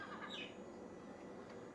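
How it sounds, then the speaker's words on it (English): Birds squawk and chirp inside a shed beneath the recording spot, a steady scratchy chatter of calls that is faint and constant, with no talking. "You can hear the birds tweeting in the shed that you guys are sat on top of."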